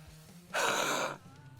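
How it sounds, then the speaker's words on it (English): One heavy, husky open-throat breath huffed out, loud and close, lasting about half a second after a quiet lead-in. "I'm just letting the air pass through and breathing out in a heavy sort of husky way."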